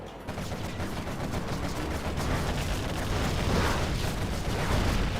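Quad cannons firing armor-piercing rounds in C&C Generals Zero Hour make a dense, unbroken stream of rapid gunfire with a thick roar of impacts that holds steady and loud throughout.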